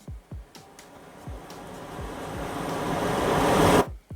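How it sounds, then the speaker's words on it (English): A stormy riser effect swells steadily from quiet to loud over about four seconds like building wind and surf, punctuated by a few low thumping hits, then cuts off sharply at the peak. "like this one, it's just a stormy riser"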